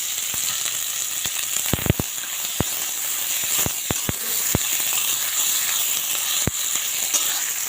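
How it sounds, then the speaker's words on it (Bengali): Chopped onion frying in oil left over from frying lentil dumplings, ahead of a jute-leaf curry: a steady close sizzle throughout with scattered sharp clicks and taps of a spatula, no voices. "পেঁয়াজটা একটু লাল লাল করে ভাজা ভাজা করে নিই"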